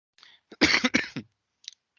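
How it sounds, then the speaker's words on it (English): A single short burst of coughing, a few rough hacks close to the mic, followed by quiet. "My apologies for coughing."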